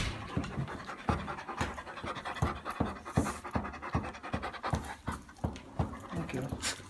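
A dog panting close by, rapid rhythmic breaths that keep a steady beat throughout, with a person talking over it.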